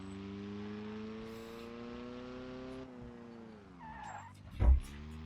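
A car driven in BeamNG.drive hums with a steady engine tone that dips and falls, followed by a short scuffing bump near the end, quiet and with no voices.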